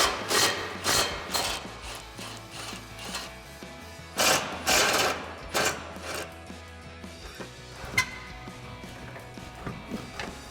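A 13mm socket on a ratchet works loose the rear exhaust hanger bolts under a 2015-2016 Dodge Charger, giving quick metallic clicking and clanking bursts, fairly close, with several louder knocks scattered through a busy mechanical background.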